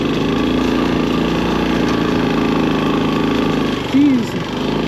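A three-wheeler motorcycle conversion engine drones steadily while riding, loud and close with a throbbing low pulse, and the pitch briefly rises near the end.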